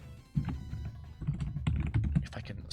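Close computer keyboard typing, with quick, irregular keystrokes tapping in short bursts and no voices.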